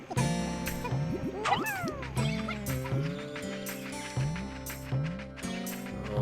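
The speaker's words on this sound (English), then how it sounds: "Oh, that's the sound of Pikmin being way too greedy for their own good." Game sounds from Pikmin as greedy Pikmin carry things: a busy run of bright plucked and chirpy notes with sliding pitches and rhythmic beats, moderately loud with no talking.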